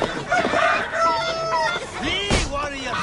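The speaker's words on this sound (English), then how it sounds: "Someone get that drunk away from the chickens!" Chickens cluck and a rooster crows in Assassin's Creed Valhalla, a burst of loud overlapping fowl calls with a sharp squawk near the end, under a game soundtrack.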